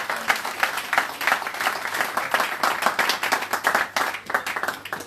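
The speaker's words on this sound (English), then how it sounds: "Please give him a round of applause." A crowd claps at a London town hall meeting and fundraiser, with sharp individual claps clearly audible in a lively, uneven rhythm of moderate size.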